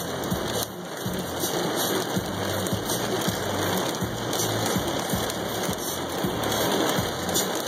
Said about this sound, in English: Oh my god, that was the heaviest hail I've ever seen in my life.